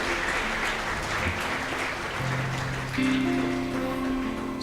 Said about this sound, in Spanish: Y si vas a aplaudirle, apláudele al Señor Jesús.